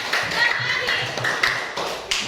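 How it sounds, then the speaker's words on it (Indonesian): A crowd claps continuously for a group's performance, a dense patter of hands filling the space, with some voices mixed in. "sekali lagi tepuk tangan buat kelompok 4"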